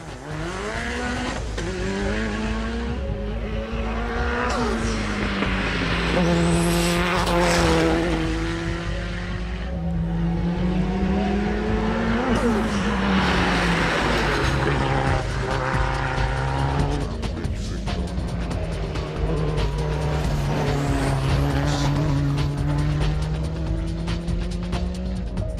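A Lancia Delta Integrale rally car climbing a mountain hillclimb course at Blagoevgrad, its engine revving hard and rising and falling through gear changes, loud and continuous as it passes near, with brief tire squeal.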